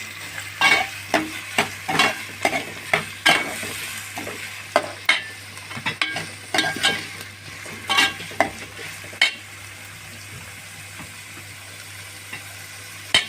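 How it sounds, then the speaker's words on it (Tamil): Onions sauté in a pan for kavalai fish curry, with a soft steady sizzle punctuated by repeated sharp scrapes and taps of stirring at an irregular rhythm, close by. "வெங்காயம் போட்டுக்கலாம். நல்லா வதங்கட்டும்."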